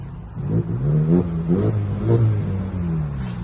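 A 2019 Mazda 6's engine revs repeatedly, its exhaust rumbling and rising in pitch then dropping back, loud and close, with no talking.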